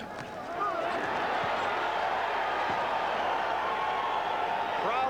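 A boxing crowd at the Larry Holmes vs. Carl Williams heavyweight title fight roars in sustained reaction to a punch combination, a broad wash of cheering and shouting from a distance.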